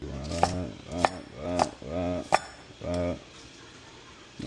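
Knife rough-chopping green onion on a board, five or six distinct chops in an uneven rhythm, close and fairly loud, with a voice talking alongside.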